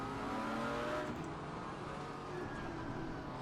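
A McLaren GT4 race car in Assetto Corsa Competizione, its engine droning steadily at a sustained pitch, heard fairly faintly and with no talk.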